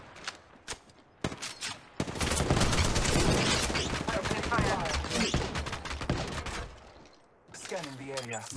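Sustained gunfire in the Apex Legends Mobile battle royale game: a brief quiet of scattered shots, then dense continuous bursts for several seconds, tapering before a final shot with a ringing tail, with voices under it.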